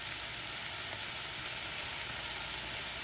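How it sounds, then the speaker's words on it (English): Diced purple onions sizzle with beef in a one-pot skillet, a steady, close frying hiss with no pauses and no voices over it. "We're using purple onions. This is about a half of a cup of purple diced onions. And we're just going to let those start cooking down and caramelize."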